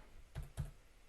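Two quiet, soft keystrokes on a computer keyboard while numbers are entered into CAD software, faint and close with no talk.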